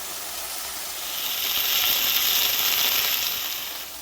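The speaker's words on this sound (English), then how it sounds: "We're just going for a quick sear on these." Venison pieces dusted in cornstarch sear in hot olive oil over medium heat, a bright hissing sizzle that swells and then eases slightly, close and alone with no talking.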